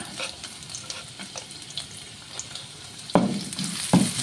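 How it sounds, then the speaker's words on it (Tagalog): Ginger is sautéed in cooking oil with a soft steady sizzle and light stirring scrapes, close and moderate in level. Two sharper clatters come near the end, and no one talks. "Gisa na po tayo."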